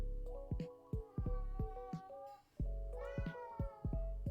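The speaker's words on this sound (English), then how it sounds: "My cat's saying hello to you as well." A house cat gives a rapid series of meows close by, about a dozen short cries and whines in quick succession with no talking.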